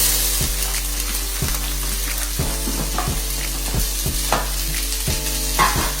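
Chopped onions sizzle in a hot pan for cornbread dressing, a steady crackling hiss broken by regular scraping stir strokes about once a second, heard up close with no talking.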